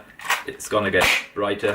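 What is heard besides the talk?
toy foam dart blaster firing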